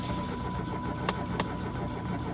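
A car's engine cranks without catching, stalled on a steep off-road bush track, under a steady drone with two sharp clicks partway through.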